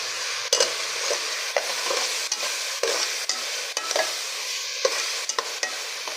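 Whole garam masala frying in a pan: a spoon scrapes and stirs in repeated strokes over a soft, constant sizzle, close up with no voices.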